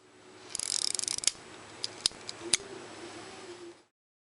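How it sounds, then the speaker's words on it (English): Small mechanical clicks and a quick ratcheting burst from a Rollei 35 camera's wind gear cocking the shutter, a few sharp ticks close up, then a soft lingering tone, otherwise quiet. "See how the shutter is cocked here."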